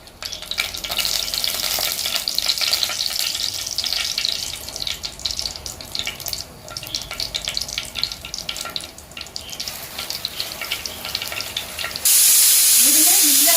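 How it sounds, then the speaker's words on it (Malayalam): Fenugreek seeds splutter and crackle in hot coconut oil in a pan, a busy close sizzle with sharp pops, ending in a sudden hiss. "ഉലുവ ഇട്ടിട്ട് പൊട്ടുന്ന സമയത്ത് പൊട്ടട്ടെ."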